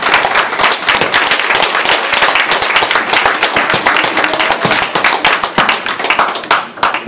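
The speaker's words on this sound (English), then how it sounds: "Let's get a Most High the best round of applause that we can for his name." A church congregation breaks into a loud, sustained round of applause, dense rapid clapping that fills the room at close range and continues steadily without a break.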